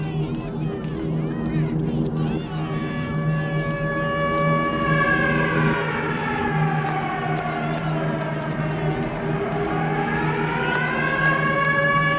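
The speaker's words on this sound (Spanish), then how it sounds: "Y la sirena." Civil defense siren wailing steadily and loudly in a city, its rising and falling pitch sweeping over about twelve seconds alongside a murmuring crowd.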